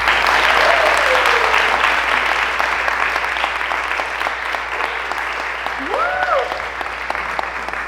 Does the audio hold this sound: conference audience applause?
yes